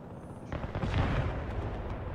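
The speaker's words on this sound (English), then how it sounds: "he's firing MLRS over here" An MLRS rocket artillery launch in Broken Arrow, a modern combat game. A sudden dense rushing roar swells in and holds as a sustained volley of launches, fairly loud, with no voice over it.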